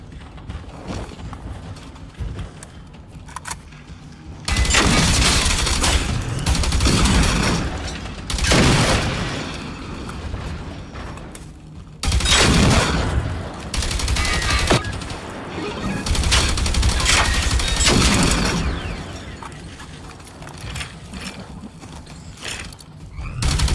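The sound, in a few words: gunfire from the video game Generation Zero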